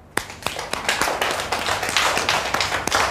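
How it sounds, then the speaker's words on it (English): A group of children clap in a classroom, sharp irregular claps at a quick pace filling about three seconds, fairly close and loud. "Give yourselves a clap."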